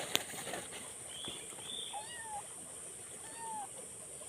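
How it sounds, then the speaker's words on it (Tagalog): A cat meowing outdoors in a rural yard, two short faint meows a second or so apart, heard over steady background hiss and insect noise. "Dito ka lang, may pusa."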